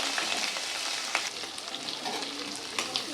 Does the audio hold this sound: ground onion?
yes